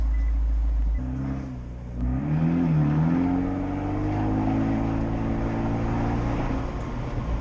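Abarth 124 Spider engine and exhaust burbling low and steady while driving, a deep rumbling drone with pitch shifts as revs rise and settle, with no talking over it.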